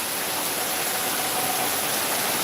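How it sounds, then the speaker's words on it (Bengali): Heavy rain pours down in Dhaka, a dense, steady roar of water that fills the scene without pause and with no voices. "হঠাৎ করে প্রচণ্ড বৃষ্টি শুরু হয়ে গেছে"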